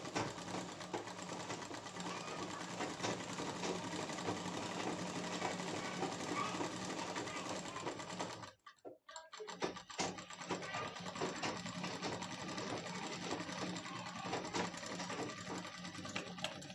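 A sewing machine stitching frock fabric runs in a steady, rapid mechanical whir, close and loud, pausing briefly midway before resuming at the same even pace.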